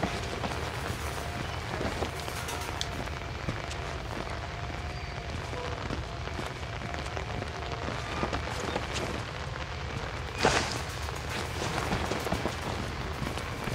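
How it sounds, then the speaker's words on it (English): Steady rain hisses throughout a dark scene in the horror game Outlast, a dense continuous patter with a brief louder burst near the end. "I'm gonna catch a cold in this rain."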